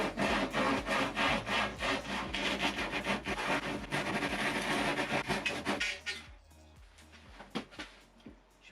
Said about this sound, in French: j'ai continué à couper mes 3 planches de contreplaqué